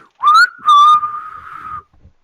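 A man gives two loud, sustained whistles, a short rising blast followed by a longer steady tone that fades out, calling to others.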